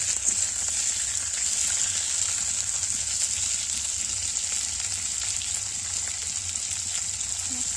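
Flat beans frying in oil with salt and turmeric give a steady, close sizzle that holds evenly from start to finish with no talking.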